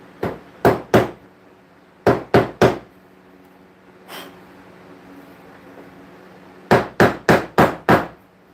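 A part is struck with a hammer on a lathe bed in sharp, loud metallic blows, heard in groups of three, three and five with a single lighter tap between, close up and with no talk.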